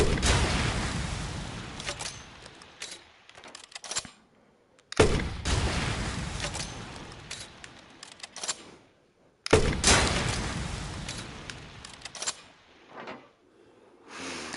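Three loud, booming grenade launcher shots in a VR gun range game, each a sharp blast followed by a long decaying rumble, spaced a few seconds apart.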